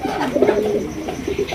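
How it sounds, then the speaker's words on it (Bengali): A pair of large blue barless beauty pigeons coo nearby, giving a close, throaty, rolling call with a few pulsing repeats over a moment. "এটা হচ্ছে ব্লু বার্লেস বিউটি কবুতর, বিশাল বড় সাইজের মধ্যে দেখতেই পাচ্ছেন।"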